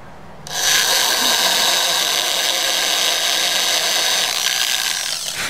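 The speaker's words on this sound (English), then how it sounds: "We're going to start drilling, get these done." A power drill bores holes in a guitar headstock for new tuners, a loud, sustained whirring grind that starts abruptly and holds steady close up before easing off at the end.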